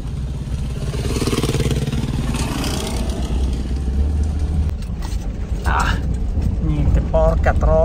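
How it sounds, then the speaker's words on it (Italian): Motorcycles ride past on a road, heard from inside a Lada Niva or Kia Sportage as a rising mid-range engine drone and rumble under steady cabin noise. People talk over it throughout. "Ah, ci sono dei raga in moto"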